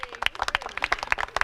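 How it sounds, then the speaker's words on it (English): Scattered hand claps from a small audience at an early voting press conference, brief and fairly close, fading in and out without building into full applause. "Yes, that's worth clapping for."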